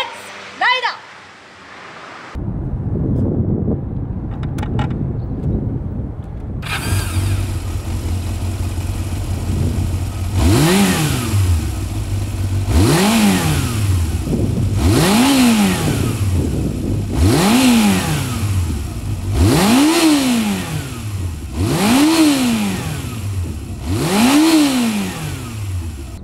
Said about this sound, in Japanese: じゃあそれでは CBR400F をレッツライド